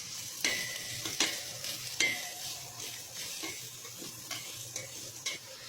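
Green chillies sizzle in a pan for egg fried rice, stirred with sharp spatula scrapes and clinks against the metal at an uneven pace over a steady frying hiss.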